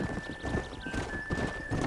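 Horse hooves clip-clopping in a rapid galloping rhythm in the Red Dead Redemption video game, close and steady, with a steady high tone running underneath.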